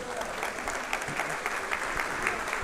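A church congregation applauding God with joy during a Portuguese-language sermon, steady dense clapping throughout, moderately loud and even.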